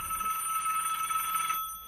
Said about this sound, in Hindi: उसके बाद फिर से टेलीफोन बजता है